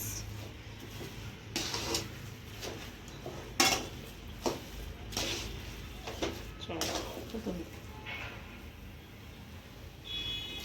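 A spoon scrapes and knocks in a pan as coconut is stirred into a cooking date mixture, giving irregular clinks and scrapes under a running voice.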